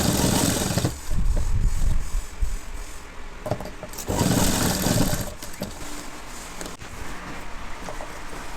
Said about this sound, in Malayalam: ഈ വശം ഇതിനോട് ചേർത്ത് തയ്ക്കുക.